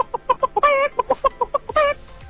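A chicken clucks in a quick, rhythmic string of loud, close clucks with a couple of drawn-out squawks, used as a sound effect in a children's radio story, heard alone without speech.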